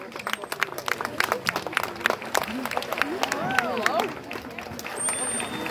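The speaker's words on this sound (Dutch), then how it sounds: "Est-ce que je peux bien un grand applaudissement pour Nino?" An audience claps for Nino the seal at a seal show, with scattered claps running steadily under a talking presenter and crowd murmur.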